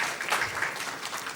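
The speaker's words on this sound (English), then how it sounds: "A big round of applause to Michael." Audience clapping in a round of applause at an art event at Bangalore airport, a steady dense patter of hands held at an even level throughout.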